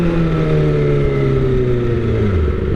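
Kawasaki ZX25R motorcycle with an Austin Racing silencer, its engine loud and close, pitch gliding steadily downward as it revs down or decelerates in a smooth continuous drone.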